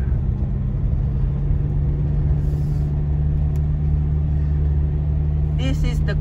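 Cars passing on a tree-lined road, a steady loud rumble of traffic with a low engine drone, plus a short bright chirp near the end.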